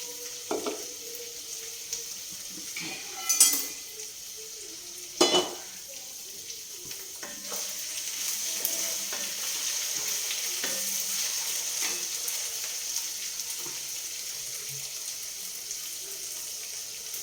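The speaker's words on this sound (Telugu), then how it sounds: "ఇప్పుడు ఇది తాలింపు వేసుకుందాం" Tempering spices in oil for a tomato, raw mango and tamarind rasam hiss faintly close by, with two sharp clinks early on and a steady, gentler sizzle building through the latter half, no voices.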